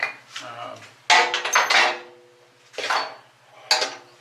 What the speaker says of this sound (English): I'll put on my multi-stop that I got with the lathe.